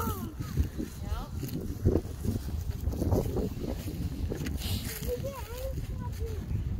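Outdoor wind gusts buffet the microphone at an Easter egg hunt, a rough low rumble running throughout, with people talking over it.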